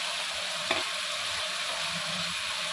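Fried prawns go into a pan of pumpkin curry with green chillies, a steady close sizzle with one brief clack of the utensil as the mixture is stirred.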